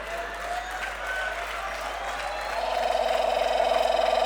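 An audience claps, a dense, steady patter of many hands that swells and grows more rhythmic in the later half, heard at a distance over a hall's hum.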